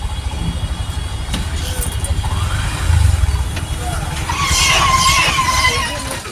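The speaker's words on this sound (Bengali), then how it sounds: "অটো ছেড়েও দিচ্ছে" Auto-rickshaw pulling away with a rising, rattling engine on a busy street, close and fairly loud, with traffic noise and a voice talking over it.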